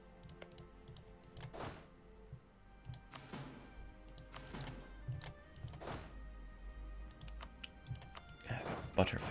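Keyboard keys and mouse buttons click in quick, scattered bursts during computer play of a grand strategy game, faint and close, with occasional louder clusters and a background hum.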